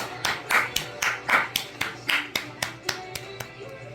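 A studio audience at a student quiz show claps in encouragement for eliminated contestants, giving a steady, rhythmic round of applause close to the microphone.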